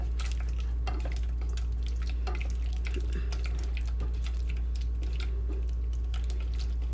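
A small spoon stirs canned carrots through melted butter in a pan, making soft, wet clicks and scrapes at an irregular pace over a low, constant hum from the stove, with no talking.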